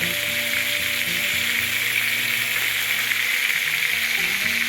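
Pumpkin pieces for Bengali kumror chokka cook in a pan with salt, giving a steady close sizzling hiss with faint stirring scrapes and occasional light clicks, no speech.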